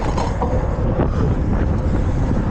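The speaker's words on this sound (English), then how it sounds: "Oh, that's really windy." Wind roaring and buffeting across a microphone while cycling over a Boston bridge, a loud, continuous rumbling rush with no voices.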